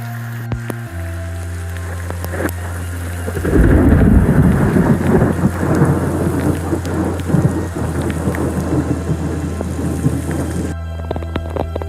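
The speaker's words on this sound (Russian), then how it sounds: "Молния вообще рядом херачит." Heavy rain pours down with a deep rumble of nearby thunder, after a low engine hum; the downpour crackles steadily until it cuts off near the end.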